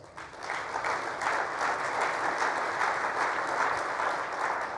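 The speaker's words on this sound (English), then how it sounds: "Let's give them a round of applause" Applause from an audience at a government event, a steady round of clapping that swells in quickly and holds evenly for a few seconds with no talking over it.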